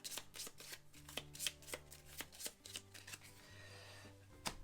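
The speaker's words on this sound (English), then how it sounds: "shuffle this into the event deck" Cards being riffle-shuffled into an event deck during a solo tabletop session of the Robinson Crusoe board game: a quick run of crisp, closely spaced ruffling bursts and snaps, close and fairly quiet, with no talking.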